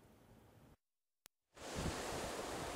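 Surf washes onto the fine sand of Myeongsasimni beach, a soft hiss that breaks off into near silence with one brief click, then swells back in louder as a fuller rush of breaking waves.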